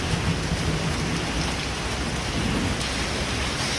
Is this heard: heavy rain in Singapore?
yes